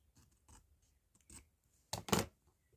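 Scissors trim the edges of a handmade card in a series of short, close snips, starting faint and sparse, then ending with two louder, sharper cuts in quick succession.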